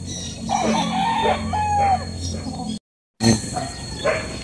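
Gamefowl broodcock roosters on a game farm crow in drawn-out calls at mid distance, mixed with clucking and a dog's bark, while someone talks over them. A brief silent gap breaks the sound partway through.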